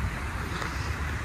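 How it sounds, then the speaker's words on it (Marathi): Cold wind gusts across a beach at sunset in rainy weather in Goa, a loud continuous rush buffeting the microphone with a low roar of surf beneath and no talking. "थंड वारा सुटलाय"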